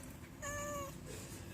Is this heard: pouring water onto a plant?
no